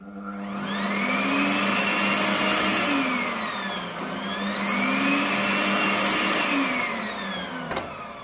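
A freshly assembled Philips Cyclone electric vacuum cleaner runs loud and close with a steady whine, its pitch sweeping down and up twice as the motor load changes.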